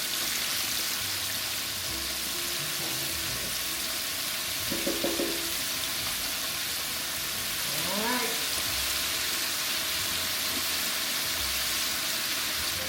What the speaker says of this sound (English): I like frying this because it holds a lot of chicken.